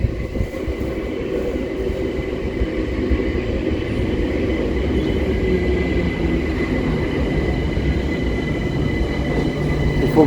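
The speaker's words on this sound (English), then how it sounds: "We're just waiting for the next train now." A train arrives at an underground station, rumbling steadily in the enclosed space, a continuous loud roar of wheels and carriages with no voices.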